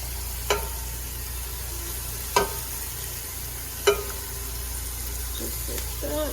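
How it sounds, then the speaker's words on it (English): Albondigas ingredients sauté in a pan with a low, steady sizzle, broken by three sharp utensil clinks against the pan and a few soft knocks near the end. "We're gonna fry that up, let that cook, and saute a little bit."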